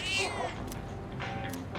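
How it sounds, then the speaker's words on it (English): A cat meows twice in a short, close, clear burst with no other sound around it, heard within the Persona 3 Reload video game. "The cat is purring loudly."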